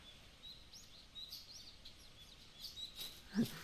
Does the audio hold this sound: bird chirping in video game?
yes